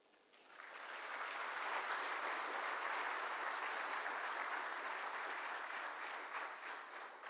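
An audience at the felicitation ceremony for Group Captain Shubhanshu Shukla bursts into sustained applause, quickly building to a dense, even clapping that holds steady for several seconds in a large hall.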